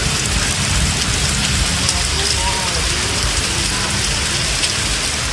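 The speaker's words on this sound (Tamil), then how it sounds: "சென்னையில் இரவில் பரவலாக மழை பொழிந்தது." Rain falls at night in Chennai, a dense, loud, unbroken hiss of drops on surfaces that holds steady throughout.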